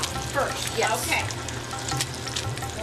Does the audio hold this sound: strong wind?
no